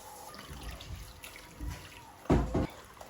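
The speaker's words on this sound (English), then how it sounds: "Right now I want to pour water inside" Water poured into a pot of Nigerian catfish pepper soup over low heat, a short splashing burst near the end, close and fairly loud after quieter faint liquid sounds.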